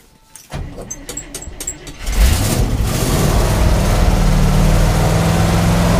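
A cold 1973 International Loadstar truck engine cranks with the choke pulled, catches after a couple of seconds and settles into a loud, steady, rumbling idle close by.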